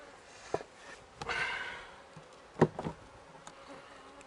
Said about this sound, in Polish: Popatrzcie, jakie spokojne pszczoły.